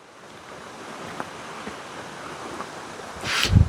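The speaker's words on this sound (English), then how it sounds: "All that mud coming across the road here, washing down into the creek." Muddy runoff washes across a canyon road and down into a creek, giving a steady broadband rush of flowing water with wind noise; a louder gust or splash swells near the end.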